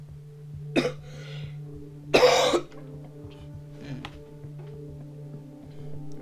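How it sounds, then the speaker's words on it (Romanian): A person with a cold coughs twice, a short cough then a longer harsher burst with throat clearing, close to the microphone over quiet video game background music. "să nu vă supărați pe mine dacă tușesc"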